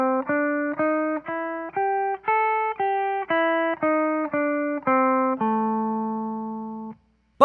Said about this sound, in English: And that scale sounds like this